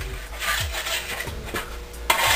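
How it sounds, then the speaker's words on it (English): Plastic scraper rasping along the edge of a fat ski to clear off leftover wax, a series of close, short rubbing strokes with brief gaps between them. "take your scraper and remove all the little pieces from your edge"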